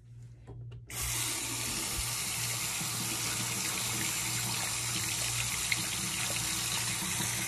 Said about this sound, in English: while that is filling up with hot water